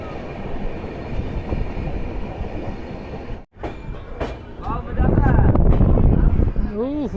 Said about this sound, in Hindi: पता नहीं कौन सी ट्रेन थी, निकल गई।